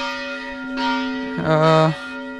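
A bell rings with a bright, sustained metallic tone, struck a couple of times and left to hum and fade, loud and close.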